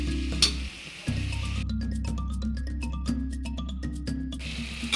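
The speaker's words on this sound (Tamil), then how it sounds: "கொஞ்சம் நேரம் மசாலாவோட சேர்ந்து வதங்கட்டும்." Mushrooms and masala sautéing in a pan for mushroom biryani give a steady, close sizzle with scattered clinks of a utensil against the pan; no one speaks.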